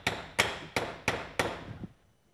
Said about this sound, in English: You can pound a nail into something that's above you